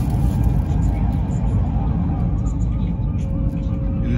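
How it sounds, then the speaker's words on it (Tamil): A Chinese bullet train passing through a short tunnel, a loud continuous low rumble and roar heard from inside the carriage, with faint high clicks drifting over it. "திரும்பி டனலில் போகுது வண்டி."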